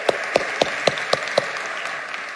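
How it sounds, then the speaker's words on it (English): A sparse round of applause for a panel at an AI summit: six distinct, evenly spaced hand claps over about a second and a half, then fading into a quiet hall with no talking. "Please join me in giving a warm round of applause."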